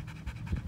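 A large active dog pants rapidly and close by, soft rhythmic breathy bursts repeating several times in quick succession with no talk over them.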